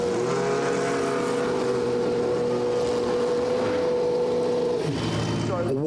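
Formula One cars idle and rev in the pit lane, a loud sustained buzzing engine note with dense harmonics that holds steady, then drops sharply near the end as the pitch falls away.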